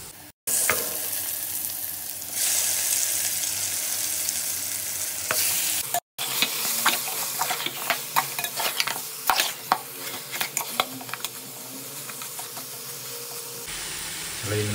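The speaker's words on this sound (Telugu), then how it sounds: "అలా ఇందులో కలుపుకొని ఒక 5 minutes వరకు మంచిగా వేగనివ్వాలన్నమాట." Marinated mutton added to golden-fried onions in a pan, first a loud steady sizzle, then spoon clatters and scrapes as it is stirred, close and busy with a soft hiss under it.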